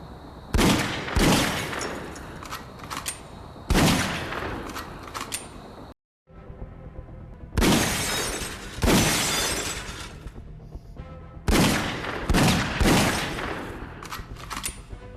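Gunfire in a first-person shooter VR game on a Quest 2: three loud bursts of rapid, crackling shots, each lasting a couple of seconds and separated by short pauses, with no talking.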